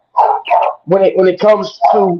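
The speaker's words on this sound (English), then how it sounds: "The dog acting crazy right now." A dog barks excitedly in a run of short, loud bursts close by, mixed in with a person talking.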